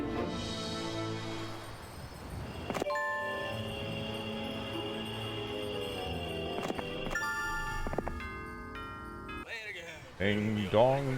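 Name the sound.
doorbell music in Heroes of Might and Magic III video game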